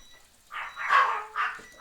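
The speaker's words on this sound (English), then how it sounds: "Why are they barking?" Several dogs bark indoors in short bursts, three or four sharp barks spaced across a second or two, fairly close and unaccompanied by talk.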